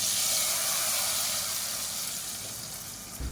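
A tempering of hot oil is poured over green gram sambar and onions, setting off a hissing sizzle that is strongest at first and slowly settles, ending in a short soft knock.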